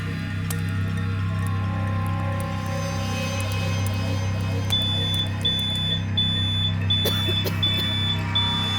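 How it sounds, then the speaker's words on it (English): A smoke alarm sounds at a Glastonbury festival fire awareness demonstration, short high beeps repeating steadily over a loud, constant low hum and crowd ambience, with some clattering noises. "The smoke alarm worked"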